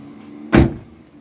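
A car's doors locking on their own with a single short mechanical clunk, sharp and close, fading quickly into quiet, in Japan.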